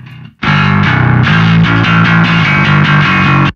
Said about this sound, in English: there is a lot of distortion, so you can go into high gain, where many plugins can't go